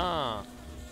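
Bees buzz in the Hollow Knight video game with a close, high, droning whine that lasts under half a second before dropping to a faint background hum.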